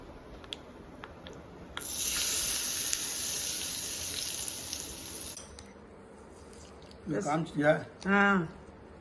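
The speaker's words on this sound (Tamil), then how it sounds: "நல்லா பொரிஞ்சிருச்சு இந்த சட்னி மேலே ஊற்றிக்கலாம்" Hot oil tempering is poured over raw mango chutney and sizzles as a loud, steady hiss for a few seconds, then cuts off; a voice talks briefly afterward.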